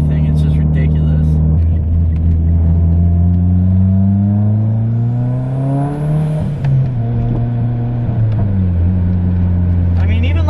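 A Mitsubishi Evo X making 400 wheel horsepower with a turbocharged engine accelerates, its loud close engine note rising in repeated pitch sweeps through the gears with turbo whoosh, continuous and dominant throughout.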